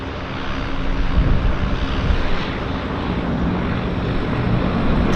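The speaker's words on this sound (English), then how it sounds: "We've got another takeoff here." An airplane takes off at Vancouver's downtown harbour airport with a steady, loud, broadband engine roar that holds for several seconds with no talk.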